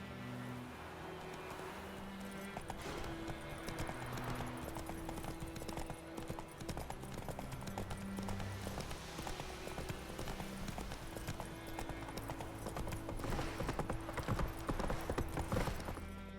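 Hooves of Roach, a horse in The Witcher 3: Wild Hunt, clatter in a fast, steady clip-clop under game music, with a brief whinny and no talking.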